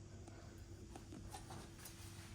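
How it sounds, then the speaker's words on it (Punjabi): Horse hooves clip-clop faintly at a horse farm, soft irregular steps against a steady low background hum. "ਘੋੜਿਆਂ ਦਾ ਫਾਰਮ ਹੀ"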